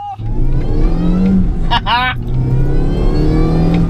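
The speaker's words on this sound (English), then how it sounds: "you've got the supercharger whine going" A supercharged 220 bhp Cooper S engine pulls hard under steady acceleration, a high supercharger whine riding over the roar, with a brief spoken exclamation in the middle.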